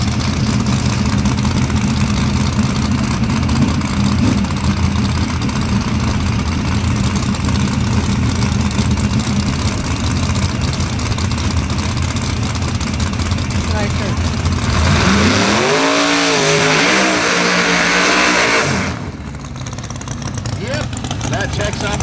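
A loud drag racing car with a wild-sounding engine sits at the starting line, idling roughly, then revving sharply up and down near the end, with crowd and background noise throughout.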